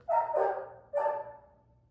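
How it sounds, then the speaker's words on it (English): A dog barks twice in quick succession, then once more, muffled and somewhat distant, with no other sounds around it. "That's Fury outside barking."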